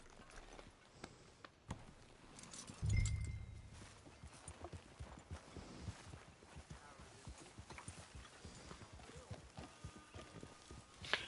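A horse's hooves clip-clop at a steady walking rhythm while it is ridden in Red Dead Redemption 2, fairly quiet and continuous, with a brief louder thump early on.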